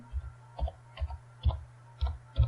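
Computer mouse clicking: six faint, evenly spaced clicks about half a second apart over a low steady hum, with no talking.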